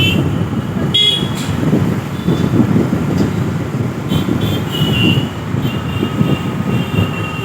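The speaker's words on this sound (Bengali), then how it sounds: "local train" A local passenger train rumbles past nearby, with a continuous loud low roar of wheels on rails and faint metallic squeals and clanks throughout; no speech.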